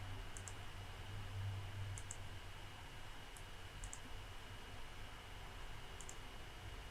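Computer mouse clicking in short paired clicks, a few scattered across a few seconds, faint and crisp over a steady hiss and low hum with no talking.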